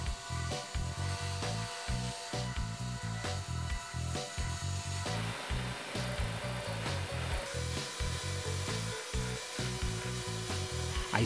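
A saw cuts lengthwise through wooden workpieces while building a sharpening jig, a steady rasping noise that starts midway and runs under rhythmic background music.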